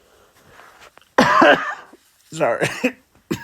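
A person coughs hard twice while recovering from a lingering cough, each burst harsh and close, with a brief spoken word between them.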